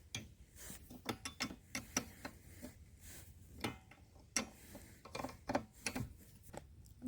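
A wrench works bolts loose on a Club Car golf cart that barely moves, making close, irregular metallic ratcheting clicks and clunks in quick bursts, with short pauses between them.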